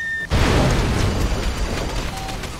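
A mortar round exploding in the video game Far Cry 2: one sudden loud boom that bursts in and then rumbles and fades over about two seconds.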